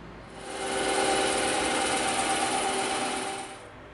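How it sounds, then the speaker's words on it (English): A bandsaw cuts through the outer edge of an EVA foam shield, producing one continuous close whirring buzz that swells in, holds steady for about three seconds, then fades. "we're going to cut this whole outside off with the bandsaw."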